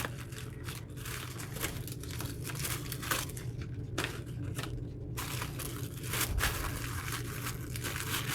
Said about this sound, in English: So now I get a chance to open it without tearing this up.